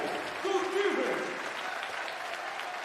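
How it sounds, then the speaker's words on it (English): Crowd noise from a packed arena at a B.League basketball game between the Shiga Lakestars and Toyama Grouses, a steady roar of fans chanting with a brief held vocal tone near the start. "the crowd chanting defense"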